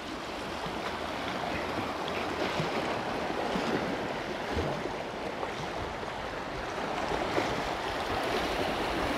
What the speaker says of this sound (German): man hört es vielleicht auch blubbern. Schlagen die Wellen ein bisschen unten ran.